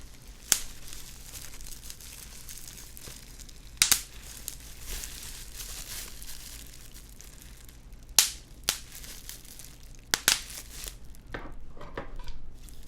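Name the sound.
bubble wrap being handled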